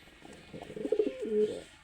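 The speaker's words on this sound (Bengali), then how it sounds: "আয় ডাকছে যেটা এটাও কিন্তু সিরাজি কবুতর।" A Siraji pigeon gives a short, soft, throaty coo lasting about a second, close by and fairly quiet against a calm background.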